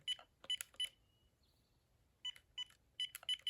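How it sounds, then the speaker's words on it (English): A 900MHz analog Uniden DXI386-2 cordless phone handset gives short electronic beeps in quick clusters, a brief pause, then more bursts of beeping, fairly soft against a quiet background. "They've got a pretty quiet beep, actually."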